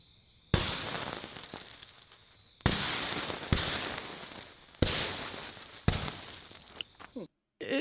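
Small explosions burst from ferrocerium placed on batteries, several sharp loud cracks each followed by a sustained hissing crackle. Bursts come at irregular intervals of one to two seconds, and no clear voice sits over them.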